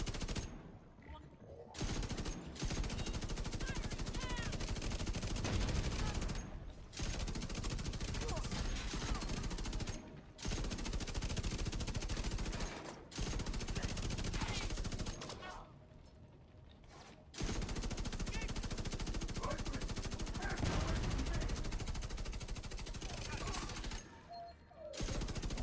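A Bullet King LMG fires in The Division 2. Long sustained bursts of rapid automatic gunfire are broken by brief pauses, loud and close, with faint talk underneath.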